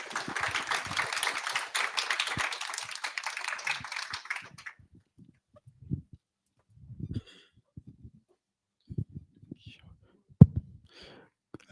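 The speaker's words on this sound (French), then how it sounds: "On peut déjà faire un premier round d'applaudissements" An audience applauds a speaker named Mathieu at a talk, a dense burst of clapping that lasts a few seconds and then stops abruptly, leaving faint scattered knocks and murmurs.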